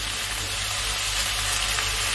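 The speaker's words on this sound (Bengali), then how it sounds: "এবার আমি দিয়ে দিচ্ছি জল" Hot water poured into a pan of pumpkin greens frying with spices and salt brings a dense, even hiss of sizzling that holds loud and close throughout, with no one talking.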